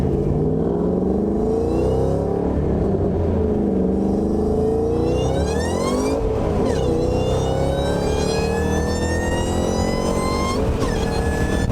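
A 726-horsepower Ford GT500 engine accelerates hard and loud, revving up through the gears in rising, sweeping pitch climbs with brief dips at each shift, close and continuous throughout.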